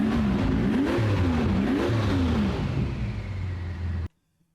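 A V12 engine with high-performance mufflers gives a deep exhaust note, revving up and down in repeated rising and falling swells over a low rumble, fairly close, then cutting off abruptly.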